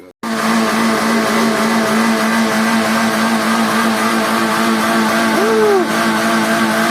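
A car strains on a slick red-dirt road during a rainy-season recovery, its engine holding a loud steady drone close by, with a brief rising rev near the end and no talk over it.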